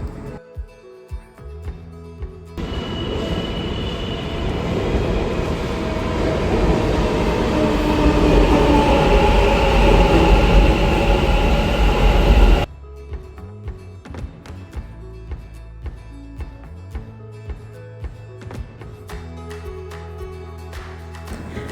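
A metro train runs through a metro station in Malleswaram, a loud, swelling rumble of wheels and rail noise that builds for about ten seconds and then cuts off abruptly, followed by quieter clicking station sounds.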